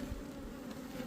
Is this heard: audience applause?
no